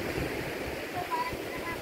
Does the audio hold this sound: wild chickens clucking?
no